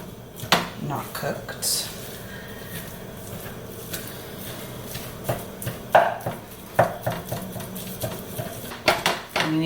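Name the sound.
spatula cutting up food into small pieces in a pan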